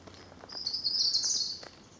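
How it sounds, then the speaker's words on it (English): Birdsong along a woodland path of mainly ash trees, with blue tit and robin among the singers: a bright, continuous high warble from a bird fairly close by, with a few thin chirps around it and no talking. "you'll be able to hand pick the birds you hear now. Blue tit, robin, the staples"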